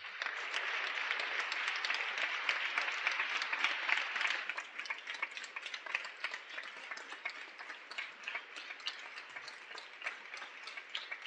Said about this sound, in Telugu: నిమిషం పాటు చప్పట్లు కొట్టండి